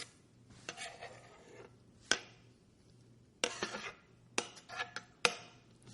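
Tomatoes dumped into a dish, a run of sharp clattering knocks and scrapes against the bowl, fairly close, with quiet pauses between bursts and no voices.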